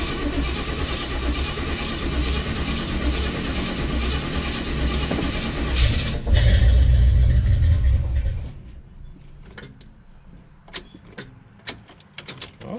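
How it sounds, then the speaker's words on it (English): A Cutlass car engine starting cold: a steady mechanical drone that swells into a loud low roar for a few seconds, then drops off, followed by faint scattered clicks and taps. "doing a cold start for the first time today in the Cutlass"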